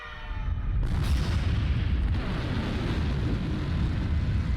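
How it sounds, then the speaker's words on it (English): A sudden loud blast inside a scientific research facility in the Root Double visual novel, a booming explosion that hits abruptly and then rolls on as a heavy, sustained rumble. "An explosion occurred."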